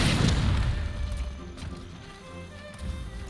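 Great sword attacks in Monster Hunter World set off heavy booming explosions, with a strong blast right at the start and then rumbling bursts that fade and return.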